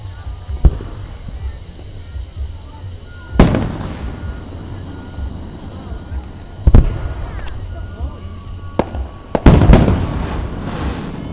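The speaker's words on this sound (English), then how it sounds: "That was a little firework." Fireworks bursting at an amusement park show in Hot Springs, Arkansas: several sharp booming explosions at irregular intervals, with crackling tails and a close cluster near the end, while people talk between the blasts.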